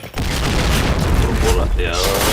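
A grenade blast in a shooter video game, a loud booming explosion that rolls on with a rumbling tail for about two seconds, with a voice shouting over it.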